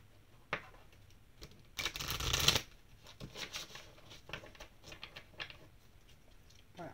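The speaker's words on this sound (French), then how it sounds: "on va tirer des cartes de conseil pour toi spécifiquement" Oracle cards being shuffled by hand, a burst of riffling flutter in the middle with soft taps and slides of the deck before and after, close and fairly quiet.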